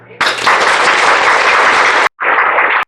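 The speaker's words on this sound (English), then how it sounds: "And you all deserve a round of applause." A burst of crowd applause, loud and dense, running steadily for about two seconds, breaking off briefly, then resuming just as strongly.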